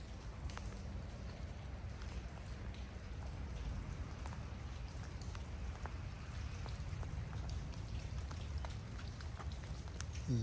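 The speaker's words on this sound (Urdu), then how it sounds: "بارش بہرحال شروع ہو گئی ہے" Rain falls steadily outdoors near an old mine entrance, a faint continuous patter with scattered drop hits over a low rumble, no talking.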